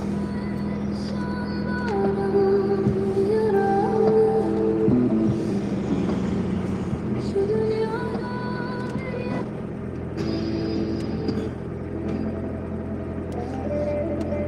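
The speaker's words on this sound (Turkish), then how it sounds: "Kendi arabamı çalıştır hem bir kendine gelsin." A car engine idles steadily to warm up on a cold day, a continuous low hum with a faint tonal whine throughout.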